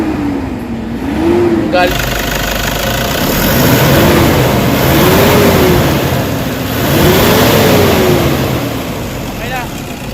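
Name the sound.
Toyota Hilux engine revving as the accelerator pedal is pressed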